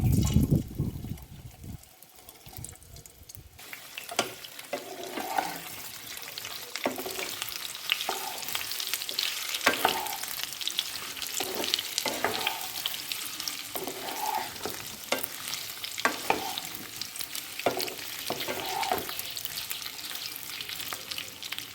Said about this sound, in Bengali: আলুগুলোকে হালকা করে শ্যালো ফ্রাই করে নেব